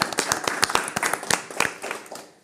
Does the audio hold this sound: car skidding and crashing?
no